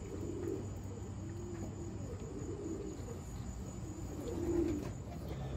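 Soft, low coos from a pigeon hen repeat through steady background insect chirring, with a slightly louder coo near the end.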